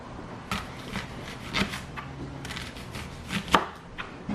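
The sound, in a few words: cutting up onion with a knife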